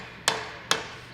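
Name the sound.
plastic hammer driving a shaft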